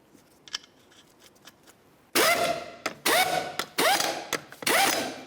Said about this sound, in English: We'll start on all 4 of our lug nuts, bottom them out